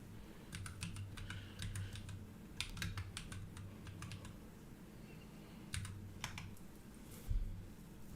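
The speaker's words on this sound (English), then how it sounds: "I'm not very good at typing with one hand" Close, quiet typing on a computer keyboard with one hand, in irregular bursts of clicky keystrokes separated by short pauses.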